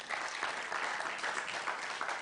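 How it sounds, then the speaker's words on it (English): Audience applause at a moot court competition final, a short burst of dense clapping that holds steady and is fairly faint. "a round of applause for ICJ."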